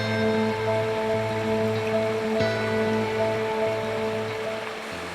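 Dam water falling directly into a river at an old mountain mill, a steady broadband rush that fills the scene alongside a constant low tonal hum.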